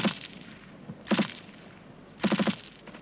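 Bursts of rifle fire from a group providing covering fire during a section fire-and-manoeuvre drill, with three distinct volleys of rapid cracking shots separated by short pauses, fairly loud and outdoors.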